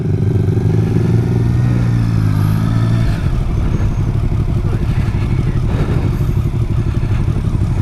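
A motorcycle riding at speed, loud steady engine drone with a gear change partway, continuous close rumble and wind throughout.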